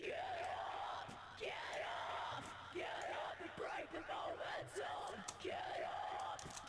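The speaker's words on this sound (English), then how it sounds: "since screams are a very unnatural sound, you really do need to EQ them a lot" Soloed harsh scream vocals from a metal mix come in repeated strained yelling phrases with short gaps between them, heard alone and moderately loud.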